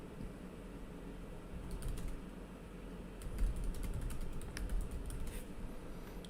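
Quiet keyboard typing in short bursts of quick key clicks, with pauses between runs.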